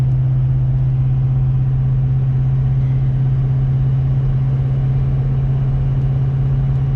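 A muffler-deleted Ford Powerstroke diesel truck towing a heavy load, its engine a loud, steady low drone from inside the cab, constant and unbroken with a deep throbbing hum and no talking.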